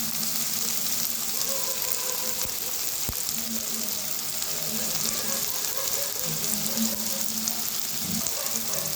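Onions fry in a pan with a dense, steady hiss and crackle, close and loud, with a single sharp utensil knock partway through and a soft voice faintly underneath.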